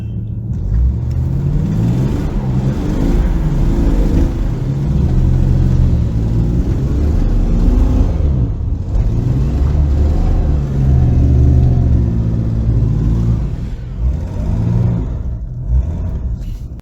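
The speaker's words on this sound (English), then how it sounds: "It sounds like a race car. It's got a lot of power" A powerful car engine rumbles loudly and revs up and down in repeated surges, a deep steady roar filling the clip without any talking.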